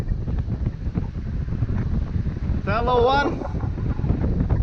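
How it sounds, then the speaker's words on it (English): Strong outdoor wind buffeting a microphone, a steady rumbling roar with a brief whine from a small Ryze Tello drone, while someone talks over it. "you're actually having more wind because of the channel of the wind"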